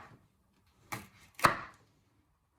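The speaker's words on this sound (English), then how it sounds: "After when you have de-seeded your pepper, you first chop it in half." A knife chops a de-seeded pepper on a cutting board, two sharp close cuts in quick succession with a faint tap at the start, otherwise quiet.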